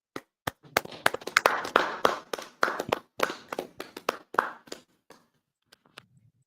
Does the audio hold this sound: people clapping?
yes